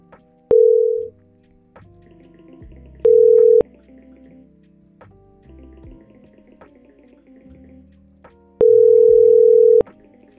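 A telephone on a Xivo phone system places a call to an extension. Several steady electronic tone bursts sound between soft clicks and quieter background sounds.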